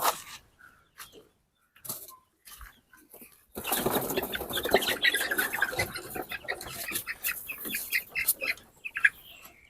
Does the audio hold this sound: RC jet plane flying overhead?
no